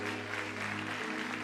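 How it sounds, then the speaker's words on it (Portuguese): A church congregation applauds during a sermon, soft steady clapping heard faintly beneath a sustained low organ-like tone. "Aplauda ao Senhor Jesus."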